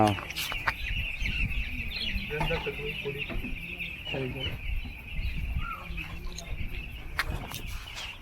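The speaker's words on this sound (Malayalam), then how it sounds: "ഇത് കണ്ടോ രണ്ടായിരത്തി മുന്നൂറ്റമ്പത് കോഴികൾ ഇറക്കിയിട്ടുണ്ട് അവർ" Chickens cluck and chatter on a poultry farm holding about 2,350 birds, a dense steady flock murmur with scattered louder calls, heard beneath someone talking.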